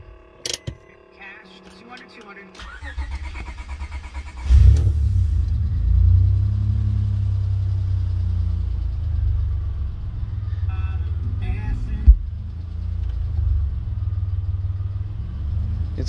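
A tuned car engine idles in cold weather after a starter catch around the four-second mark, holding a steady low rumble with a brief blip near twelve seconds; a person talks over it at the start.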